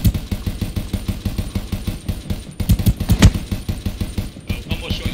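Rapid automatic gunfire from a first-person shooter video game, loud bursts of repeated shots in steady rhythm with a couple of heavier blasts midway, under a low engine-like drone.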